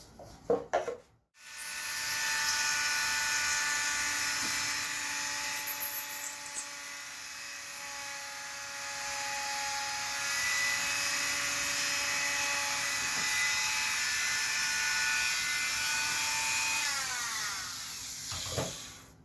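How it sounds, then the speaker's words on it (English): A Dremel rotary tool drills holes into the end of a model aircraft propeller, a steady high-pitched whine held for many seconds with small clicks and scrapes as the bit bites. "4 holes with my Dremel tool in the end of this prop"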